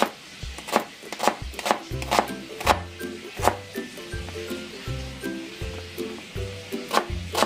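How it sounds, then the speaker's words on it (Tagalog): A knife slices through a fresh cucumber on a cutting board, steady rhythmic chops about twice a second, close and crisp, with faint background noise and no talking. "at saka po ang ating tawag dito pipino. Yan, hiwain ko lamang po ito."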